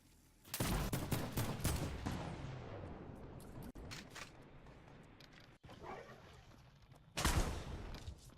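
Rapid assault rifle gunfire in a video game, loud bursts of overlapping shots with sharp cracks near the start and a heavy volley near the end, quieter scattered shots and noise between, no talking.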